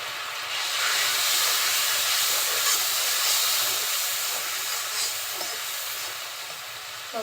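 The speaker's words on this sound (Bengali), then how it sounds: "মশলাটা এখন একটু কষিয়ে নিচ্ছি" Spice paste with chili powder sizzles in oil in a pan for a cauliflower, flat bean, potato and tomato curry, a loud, steady hiss that runs without pause.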